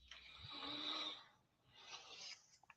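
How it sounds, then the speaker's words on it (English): A woman snores in two long, raspy breaths, one after the other, recorded faintly and alone on a live stream clip. "You're hearing a woman snoring in a clip from a live stream"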